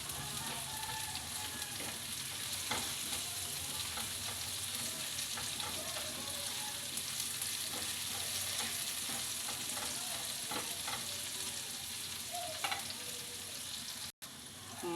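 Chicken sautéing in a hot pan with a steady, close broadband sizzle and frying crackle throughout, joined by occasional stirring scrapes, with no talking.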